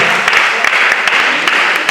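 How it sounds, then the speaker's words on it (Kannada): Audience clapping at the closing ceremony of a badminton academy tournament, a dense steady patter of many hands with scattered sharper claps, mixed with some background voices. "ಒಮ್ಮೆ ಜೋರಾದ ಚಪ್ಪಾಳೆ"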